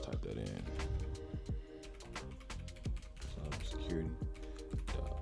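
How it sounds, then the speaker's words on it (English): Someone types a domain name on a computer keyboard while setting up a cybersecurity home lab. Rapid, close, crisp key clicks come in quick bursts, with a voice audible in the background. "now you have to type in this domain right here. So we'll just type that in."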